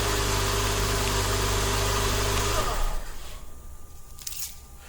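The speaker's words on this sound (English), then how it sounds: "Okay, our vehicle is up and running." A 2008–2017 Mitsubishi Lancer engine idles after a remote start with a close, steady low hum that drops away about halfway through. Quieter faint rustling follows.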